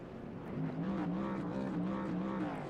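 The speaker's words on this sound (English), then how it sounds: "he's revving his engine now" A race truck engine in the iRacing sim sits idling and revving at Atlanta Motor Speedway, a steady droning note that rises and wavers slightly, moderately loud and alone with no talk.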